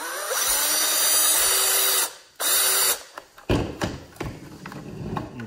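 Power drill unscrewing screws from an old leaf blower during a teardown: a steady whirring drive for about two seconds, a brief pause, another short burst, then taps and clunks as the parts are handled, close up and with no talk.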